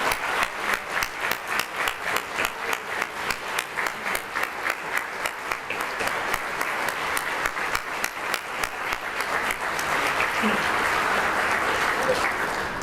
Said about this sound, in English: Please stand and give them all another round of applause.